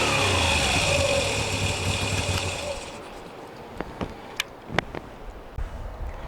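A Moto Guzzi V7 Stone's 853cc transverse V-twin idles with a low, even throb that fades after a few seconds, leaving a quieter background broken by several sharp clicks and knocks.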